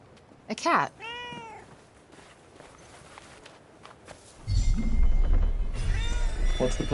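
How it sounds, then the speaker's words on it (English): In the video game Forspoken a cat meows several times up close, with soft paw steps between the calls, and later a low rumbling swell of ambient game sound comes in beneath more meows. "A cat."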